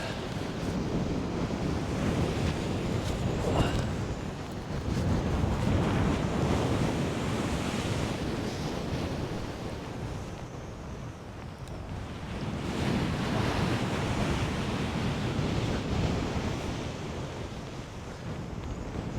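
Storm waves crash and surge on the shingle of Chesil Beach near Abbotsbury, in loud, rolling swells that rise and fall every few seconds, with strong wind buffeting the microphone and no voices.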